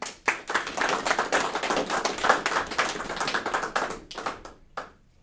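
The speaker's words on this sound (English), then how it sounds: "Round of applause for those guys." A round of applause from a crowd at a workplace safety meeting, dense overlapping hand claps swelling and holding steady before tapering off over about five seconds.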